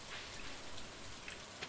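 Steady rainfall in the farming video game Stardew Valley, a soft, even hiss of falling rain with faint pattering drops, quiet and continuous throughout.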